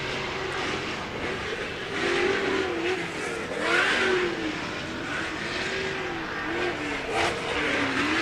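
Engine roar from Pro Lite short course race trucks with LS V8 engines passing at a distance at Glen Helen Raceway, a steady growl that swells and rises in pitch as they accelerate, layered over broad rumble.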